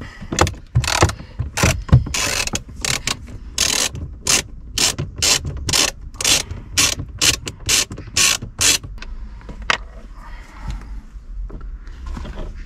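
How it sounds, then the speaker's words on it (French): A Torx 20 wrench loosens glove box screws inside an Opel Astra H, giving repeated close bursts of sharp ratcheting clicks separated by short pauses, loud and alone with no talk. "Donc vous avez déjà en premier 4 vis à dévisser et il faudra prendre une clé de Torx 20."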